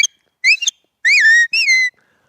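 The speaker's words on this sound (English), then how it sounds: "So I've been practicing the whistles" A person sounds dog-herding whistles in quick succession, alone and close by: a short double note, then two longer rising-and-falling tones with brief gaps between them.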